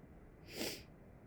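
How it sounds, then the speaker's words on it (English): A single quick nasal sniff from allergies, close and fairly faint, rising and falling within half a second against quiet background noise. "Apologies for sniffling."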